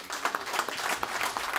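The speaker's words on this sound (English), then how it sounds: "let's give her another round of applause" Audience applause for a speaker at a business event, a dense burst of clapping with distinct individual claps, steady and fairly close for the whole stretch.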